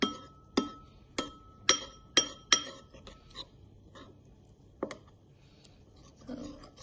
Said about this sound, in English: Okay, and whisk it properly.